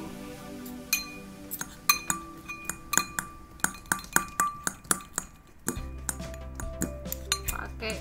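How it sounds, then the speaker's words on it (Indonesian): Eggs being mashed with a fork or knife in a bowl for mayo sandwich filling: sharp repeated clinks and taps of metal on the bowl in an irregular rhythm, close and distinct, later over a low hum. "Pertama-tama telurnya dihancurkan dulu."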